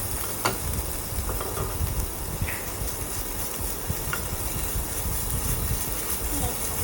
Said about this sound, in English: Now we need to fry the ginger garlic paste, saute it in the pan